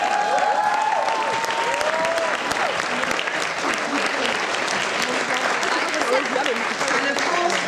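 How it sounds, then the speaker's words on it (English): Loud, sustained applause from an audience at a youth public-speaking competition, a dense continuous wash of clapping lasting several seconds with crowd noise and a brief voice under it. "So, a round of applause."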